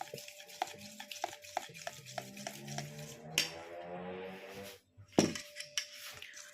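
Biscuit dough being stirred and mixed with pistachio spread in a bowl, quiet irregular scraping and clinking of a utensil, close and faint, with a brief pause midway.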